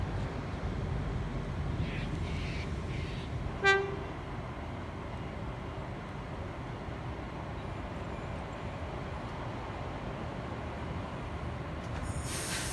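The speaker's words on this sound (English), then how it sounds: "We also have a Wyong service arriving into platform number 2." A Sydney Trains Wyong service pulls into platform 2 at Cowan station, a continuous low rail rumble with one short horn toot or wheel squeal partway through, heard without voices.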